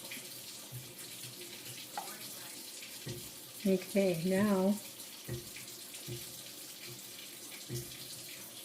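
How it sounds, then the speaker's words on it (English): A faucet runs into a mixing bowl while red and green chile chicharrón burritos are being made, a soft steady hiss of water under a few spoken words. "I'm going to add a little bit more water to my bowl to clean out my bowl"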